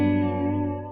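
A PRS SE Custom 24-08 electric guitar rings out a sustained clean chord with gentle tremolo-bar wavering, decaying slowly with a touch of reverb and no voices.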